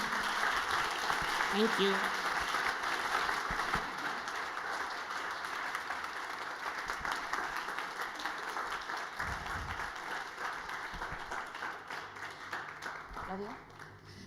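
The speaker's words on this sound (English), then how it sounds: "please a big applause" An audience at a bootcamp event gives a speaker sustained applause, a dense wash of clapping that fills most of the stretch and slowly fades near the end, while a few words are spoken over it.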